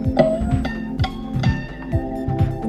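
Fretless 4-string cigar box guitar in DGBD tuning playing a slow blues riff, plucked notes with downward slides and ringing harmonics, a few evenly spaced phrases heard close and alone.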